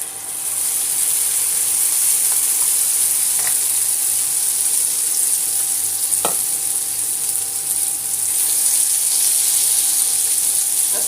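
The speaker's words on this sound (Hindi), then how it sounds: "और अब ये हमें तलना है कटलेट।" Cutlets frying in hot oil in a home Indian kitchen, a steady loud sizzle running throughout with a few faint clinks of a utensil.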